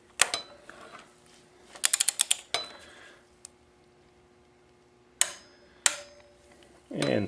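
A torque wrench ratchets in quick metallic clicks as the front wheel bolts on a 2015 BMW F800GS motorcycle are tightened. The clicks come in separate close bursts with quiet gaps between them.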